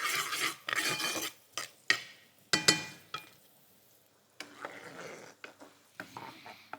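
Rice dish ingredients caramelizing in a pan on maximum heat, with bursts of scraping, stirring and sizzling broken by short pauses and clattering utensil knocks.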